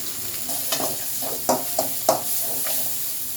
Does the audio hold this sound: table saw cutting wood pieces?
no